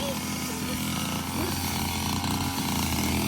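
A grass cutter runs steadily on a farm, a loud continuous buzzing engine drone that fills the whole stretch, with voices faintly present underneath.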